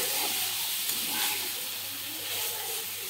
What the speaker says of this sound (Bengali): চিকেনটাকে আমি মিডিয়াম টু লো ফ্লেমে রেখে এইভাবে একটু ভাজতে থাকবো।